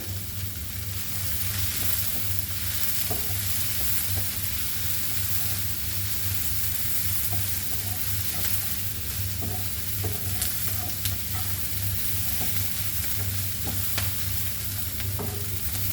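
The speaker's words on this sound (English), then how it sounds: "I'm taking whole like this only garlic, and my ginger also. So let this also get fried." Whole garlic cloves and ginger frying for Goan pork chilli fry, a continuous dense sizzle with a low hum and scattered stirring clicks, steady and close for the whole stretch.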